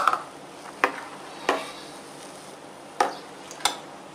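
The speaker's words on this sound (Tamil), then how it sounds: "ரெண்டையும் சேர்த்து நல்லா கலந்துடலாம்" Thick coconut milk being stirred into a beaten egg mixture for vattalappam, with a few sharp utensil clinks against the bowl spaced out over soft, wet mixing.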